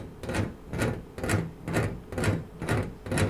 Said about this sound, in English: this is a sample of a saucepan in our kitchen, hanging off a hook, kind of like just swaying backwards and forwards over a piece of metal